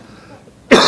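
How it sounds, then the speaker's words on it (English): A single sharp cough from a doctor, close and loud, bursting in abruptly after a near-silent pause. "have a little bit of a cough, so I don't want to cough into the"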